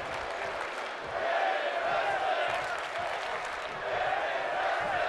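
A virtual arena crowd in the WWE 2K24 wrestling game roars and applauds in a steady, swelling wash of noise as commentators talk over it.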